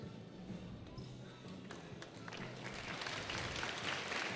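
At a women's college basketball game, applause from the gym crowd builds gradually as an injured player gets up, rising from scattered claps to a fuller ovation near the end.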